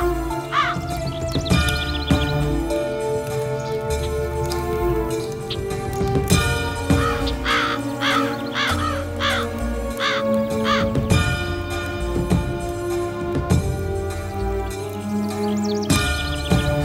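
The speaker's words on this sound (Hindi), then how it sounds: "कौवा कौवा कौवा कौवा कौवा कौवा" Crows caw repeatedly, with harsh calls coming in clustered bursts over a dense, tonal musical background.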